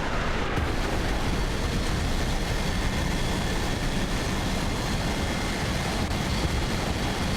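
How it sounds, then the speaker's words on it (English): Jet aircraft engines roar in War Thunder, a dense, unbroken wall of loud broadband noise that holds steady throughout with no pauses. "So bloody noisy, these jet craft."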